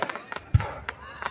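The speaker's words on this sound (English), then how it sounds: "Happy fireworks time." Fireworks at a Christmas in July display at Unity Park, Turners Falls, on the Connecticut River: several sharp bursts and pops scattered over a second, one heavy low boom near the middle, with faint voices in the background.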